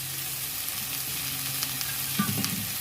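Chopped green chilies and ginger paste frying in a pan, a steady close sizzle with occasional stirring scrapes and small pops.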